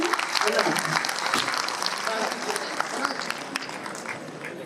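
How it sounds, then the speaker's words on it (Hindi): An audience at a Hindi poetry recital claps together, a steady burst of many hands with crisp, dense patter that holds for several seconds before easing slightly, with a voice faintly present underneath. "एक बार अगर मन है तो एक बार ताली बजा के मुझे बता दें।"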